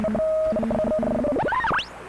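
A Hammarlund SP-600 communications receiver puts out a steady beat tone that holds, breaks up, then slides and swoops downward in pitch as the set drifts while warming up, loud and alone.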